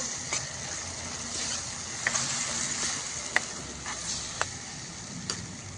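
Spices with coriander-cumin powder, salt and mashed tomatoes frying in oil for a vegetable curry, a steady low sizzle with occasional scraping clicks of a spoon stirring the pan.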